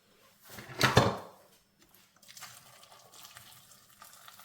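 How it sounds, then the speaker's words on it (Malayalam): A short splashing pour of hot water into a metal pot of cassava, loud for about a second, followed by quieter clinks and faint kitchen noise. "ഇനി നമുക്ക് കുറച്ച് ചൂടുവെള്ളം ഒഴിച്ചു കൊടുക്കാം"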